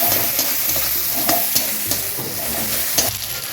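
Onion and tomato masala with salt and garlic-ginger paste fries steadily in a pan, a constant loud sizzle broken by repeated scraping stirs of a spoon.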